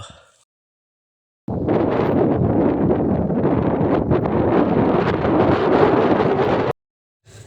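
Strong wind buffets the microphone in a loud, continuous roar for about five seconds, starting and stopping abruptly amid near silence.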